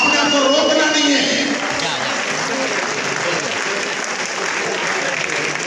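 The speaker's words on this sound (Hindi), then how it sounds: "और हम सब लोग जरूर ताली बजाए सर" A large indoor crowd at a promotional event for the Gama Hero applauds steadily and loudly, a dense wash of clapping that holds at an even level throughout.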